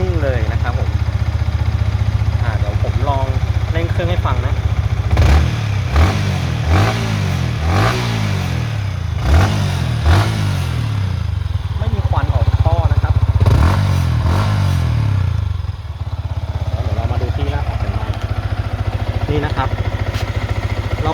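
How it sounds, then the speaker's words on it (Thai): A 2019 Yamaha R15 sport motorcycle engine idles cold just after starting, close by with a steady low thrum, punctuated by several short throttle blips and a faint clatter. "อันนี้คือเสียงเครื่องตอนสตาร์ทใหม่ๆเลยนะครับเครื่องเย็นๆนะ"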